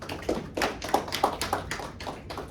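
An audience claps in bursts at a university leadership talk, a series of sharp, rhythmic hand claps with slight reverberation, fairly close and without talking.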